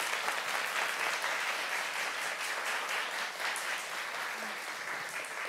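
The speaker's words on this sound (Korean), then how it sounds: "박수 한번 크게 보내주십시오" An audience at a World Youth Day lecture applauds Unification Minister Chung Dong-young. Thick, even clapping from a large crowd holds steady throughout, slightly distant and soft.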